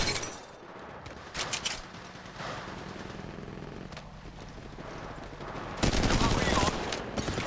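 Rapid automatic gunfire bursts in the mobile battle royale game Apex Legends Mobile, sharp repeated volleys cutting through game ambience, with a loud close burst near the end.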